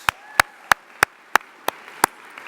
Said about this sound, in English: So we'll clap for them again.